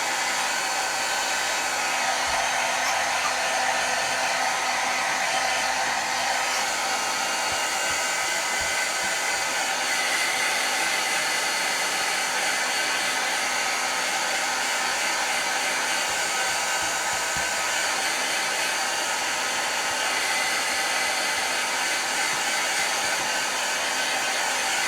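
A hair dryer blows steadily at close range for the whole stretch, drying paint on faux leather; the broadband whoosh holds level without pause and no one speaks.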